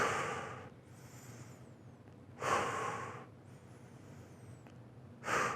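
Heavy, close breathing between myorep sets, three forceful exhales spaced a couple of seconds apart with quieter inhales between, no talking.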